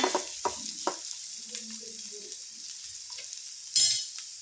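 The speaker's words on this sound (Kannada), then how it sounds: "ಅದನ್ನು ಫ್ರೈ ಮಾಡ್ಕೋಬೇಕು ಈರುಳ್ಳಿನ ಫ್ರೈ ಮಾಡ್ಕೊಂಡಾದಮೇಲೆ" Onions frying in a pan, a steady soft sizzle with a few sharp stirring scrapes and clinks near the start and one louder stir toward the end, close and alone.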